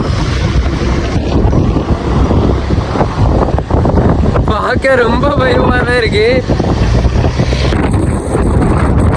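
Strong sea wind on the Pamban Bridge buffets the microphone with a loud, constant roar, while a person speaks briefly in Tamil partway through.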